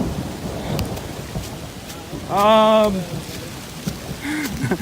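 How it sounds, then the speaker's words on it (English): Heavy rain pours down during a thunderstorm on a hiking trail in the Ouachita mountains at night, a steady loud roar with rumbling thunder, while a voice briefly sounds through the downpour. "Oh, yeah, pouring down rain, pitch dark, slippery"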